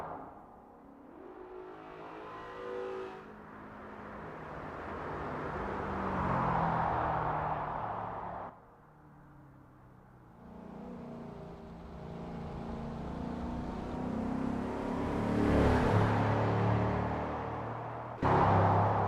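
Crown Victoria Spec P71 race cars in the Assetto Corsa racing game at Maple Valley, engines droning and revving steadily through gear changes over about nineteen seconds, with a brief lull midway before the roar builds again.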